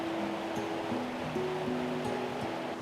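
A river runs steadily through a valley, its broad, continuous rush of flowing water filling the scene, with soft tonal music layered over it.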